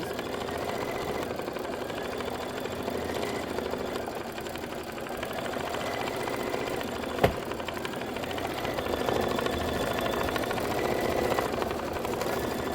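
An embroidery machine stitching pieces of a Kimberbell Cuties table topper keeps up a steady, mid-level mechanical whir with a faint rhythmic knock, running alone without pause.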